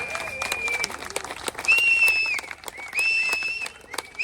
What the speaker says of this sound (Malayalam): എല്ലാവരും കൈയടിക്കുക